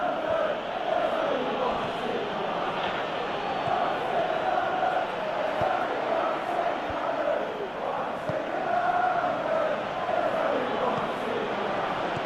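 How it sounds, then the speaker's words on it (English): A stadium crowd in a football video game murmurs and swells steadily, a dense far-off roar with brief surges and faint thumps throughout. "you can hear how the crowd are reacting to this too."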